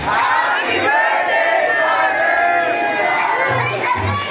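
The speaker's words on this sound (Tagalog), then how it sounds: "Everybody, let's shout! Happy birthday, Mother Lilia in 1, 2, 3!" Party guests at an 80th birthday celebration in a garden venue shout together in a loud, sustained crowd cheer, many voices overlapping in a continuous roar with a few brief low thumps beneath.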